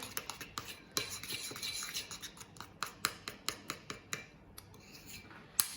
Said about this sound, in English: you're just going to kind of mix it into the icing